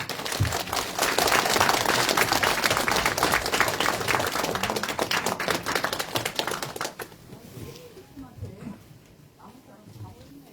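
A crowd at a mayoral candidate's press conference in Namwon claps loudly and continuously for about seven seconds, then the applause thins out and fades as a voice begins speaking.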